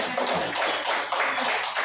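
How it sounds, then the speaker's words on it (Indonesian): A school audience claps together during a principal's observation session at SDN 5 Pangkalanbaru, a dense, steady patter of many hands lasting the whole stretch at close range, with no talk over it. "beri tepuk tangan buat kita semua"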